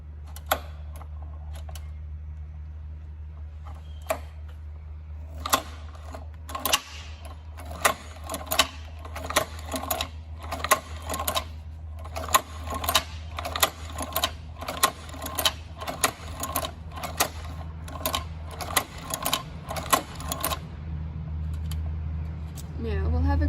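A Cowboy Outlaw sewing machine stitches in bursts of rapid mechanical clatter, starting sparse and building into a dense run of needle strikes, close and loud over a steady motor hum.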